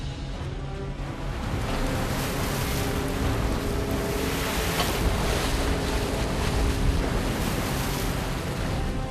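Steady roar of winter ocean waves and wind around a small 78-ton red snow crab fishing boat, loud and continuous throughout, with churning water and no voices.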